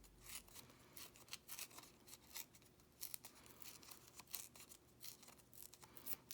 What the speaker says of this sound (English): This one's much easier to tear than the cardstock because it's a thinner paper.